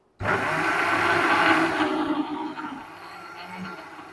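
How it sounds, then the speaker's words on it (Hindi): A blender grinds melon with milk for a kharbuja milkshake, starting abruptly with a loud whirring roar that holds for a couple of seconds, then winds down and fades as the blades slow. "थोड़ा सा इसमें दूध डालेंगे ताकि ये आसानी से ग्राइंड हो सके"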